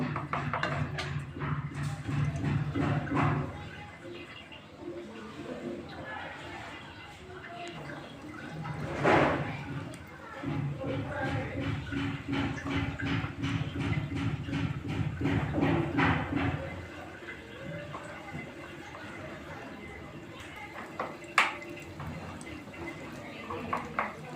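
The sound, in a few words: potato chops frying in hot oil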